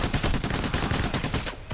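Rapid automatic gunfire from Payday: The Heist, dense bursts of shots crackling continuously for under two seconds, loud and close, with no voices over it.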